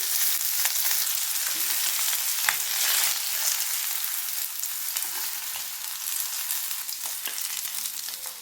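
Chettinadu-style vanjaram (seer fish) pieces frying in hot oil until golden brown, a steady, dense crackling sizzle that carries on evenly throughout with no voices.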